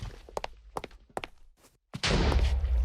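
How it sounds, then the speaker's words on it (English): A remotely fired ship weapon in a video game lets off a coal-fueled explosion: a few sharp mechanical thunks and clicks, a brief hush, then a sudden loud, sustained roaring blast that fills the rest of the moment. "all your problems are gone in a flash of coal-fueled explosion"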